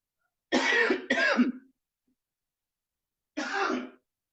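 Three harsh throat-clearing coughs, two close together and then one more after a pause, near and fairly loud with silence between.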